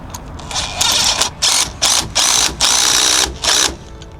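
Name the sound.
impact wrench tightening tire chain bolts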